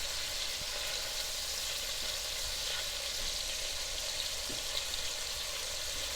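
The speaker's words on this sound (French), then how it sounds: "On vient récupérer notre viande qui a mariné et on vient la marquer en cuisson." Marinated beef searing in a cast-iron pot gives a steady, close sizzle and crackle of frying, with faint clinks of stirring or turning the pieces and no talk.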